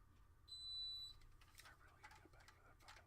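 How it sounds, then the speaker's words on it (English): A garage alarm sounds one steady electronic beep of about half a second, faint in the background, followed by quiet handling noises and soft clicks of parts being worked on. "he forgot to turn off the garage alarm again"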